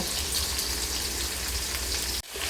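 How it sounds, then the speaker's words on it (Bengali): Potatoes frying in hot oil for a fish curry, a steady dense sizzle that runs loud and unbroken before a brief sharp dip near the end, then resumes. "মোটামুটি আলুগুলো আমি আধার বেশি ভেজে নেব"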